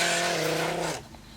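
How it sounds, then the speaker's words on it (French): A car arriving, heard as a loud, close engine and tire rush that holds steady for about a second and then drops away abruptly, with no one talking. "on a vu arriver une voiture."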